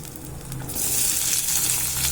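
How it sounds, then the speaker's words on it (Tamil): Shallots drop into hot oil and a bright, crackling sizzle erupts, continuing loudly close by after a brief quieter moment. "நறுக்கி வச்சுருக்கிற சின்ன வெங்காயத்தை போட போகிறோம்"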